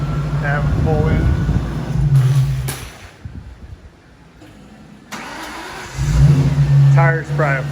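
A 2004 Terminator Cobra with a 3.4 Whipple supercharger pulls in, its engine rumbling and revving close by while people talk over it, easing off to a quieter idle in the middle.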